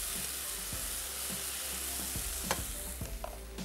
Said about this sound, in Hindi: ये लेमन स्लाइस ये हमने शामिल कर देना है अपने इस चिकन में, और इसको थोड़ा सा करेंगे फ्राई